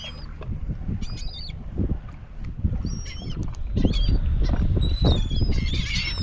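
Seabirds call repeatedly in high squawks and chirps above a school of speckled trout in early fall, heard over steady wind and water noise from a fishing boat.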